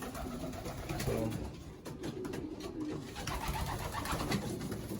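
Stock pigeons coo in a loft after a bath, a steady layer of low, throaty coos from several birds close by, overlapping continuously with faint rustling.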